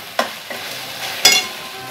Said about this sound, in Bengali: নাড়ছি